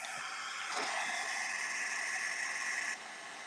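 A heat tool blows a steady, loud hissing roar as it melts Ranger embossing powder on a crafting surface, running continuously for about three seconds before dropping slightly in level near the end.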